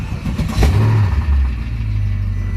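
Mercedes CL63 AMG engine revs once loudly and close, a deep rising roar that swells and holds at a steady growl.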